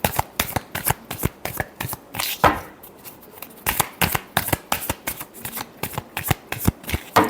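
Tarot cards are shuffled by hand in a fast run of sharp, rhythmic riffles and slaps, close and clear, with no talk.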